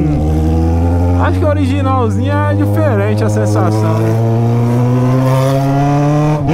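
Yamaha XJ6 motorcycle with a straight-pipe exhaust, its engine droning loud and close, revving up and down in sweeping pitch bends before settling into a steady high hum, with someone talking over it.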